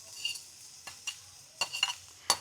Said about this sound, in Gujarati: ઘી ગરમ થઈ જાય એટલે આપણે એમાં હળદર નાખી દેવાની.